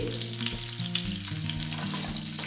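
Curry leaves and green chilies sizzle in hot oil in a pan, a steady close crackling fry with soft background music underneath.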